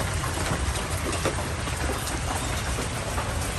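Heavy rain falling steadily during a stormy morning, a dense, loud, continuous hiss of drops drumming on surfaces close by, with no voices.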